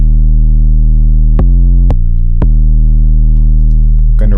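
A loud, steady synthesizer tone with a gritty, distorted buzz, retriggered by three sharp clicks before a short burst of higher noise.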